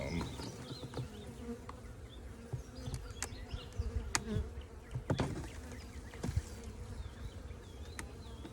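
Honeybees buzz steadily around a hive being set up, with the swarm's drone close and continuous, broken by scattered sharp clicks and knocks from handling the hive.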